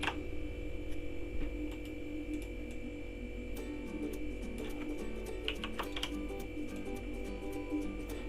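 Soft, steady computer keyboard typing with occasional mouse clicks while working in Photoshop, close and fairly quiet over a faint electrical hum, with no one talking.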